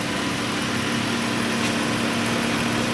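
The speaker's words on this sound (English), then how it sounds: "so I'm gonna turn the vehicle on," A Dodge Grand Caravan engine idles while warming up, a steady, even low hum with a faint vibration throughout, close and unbroken, with no talk.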